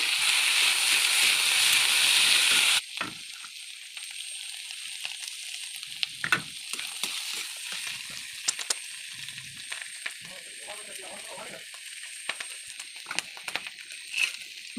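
Dheki shak fern greens frying with potatoes, chillies and turmeric: a loud, steady broadband sizzle for the first few seconds, then a quieter crackle with scattered clicks and scraping stirs.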